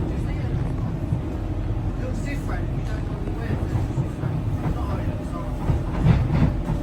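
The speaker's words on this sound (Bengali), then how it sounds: "আর এই ট্রেন চলছে ড্রাইভার ছাড়া।" A driverless DLR train runs in London, giving a continuous low rumble and rolling noise at moderate distance. Someone talks over it.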